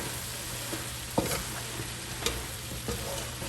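Spices get stirred into minced meat qeema in a pan: a low sizzle runs throughout while a spoon scrapes and clicks against the pan a few times, close and fairly quiet.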